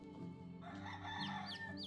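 Chickens in the medieval farming game Medieval Dynasty cluck and crow, a rooster-like call rising over a steady game soundtrack for about two seconds.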